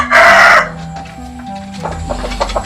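A kampung rooster crows loudly and close by in one strong burst, followed by quieter background rustling and faint clucking.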